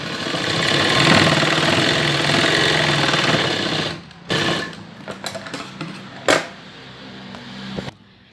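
An electric sewing machine stitches baby pant fabric, running loud and steady for about four seconds, then breaking into short stop-start bursts with brief pauses before halting.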